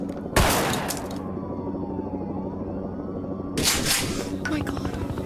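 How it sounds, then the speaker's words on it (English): Gunshots in the video game Zero Hour: two loud, sharp bursts of fire separated by a stretch of droning, rumbling ambience. "Fine, I'll start shooting anyway!"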